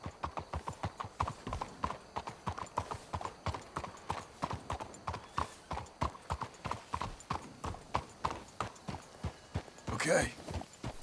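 Horses clip-clop at a steady trot in Red Dead Redemption 2, a dense rhythmic run of hoofbeats close by, with a horse's snort near the end and voices talking under the hooves.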